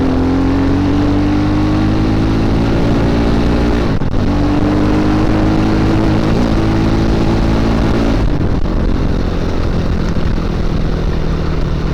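A Viar Cross X 250 motocross motorcycle's 250 cc engine runs steadily and loud throughout, its droning tone rising slightly as revs climb, with two brief dips where the throttle eases before it picks up again.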